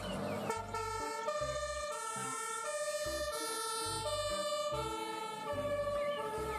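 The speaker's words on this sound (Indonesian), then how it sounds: "yang terakhir ada mobil fire truck atau mobil pemadam kebakaran" A toy fire truck siren wails in repeating rising and falling tones, layered with horn-like blasts, loud and close.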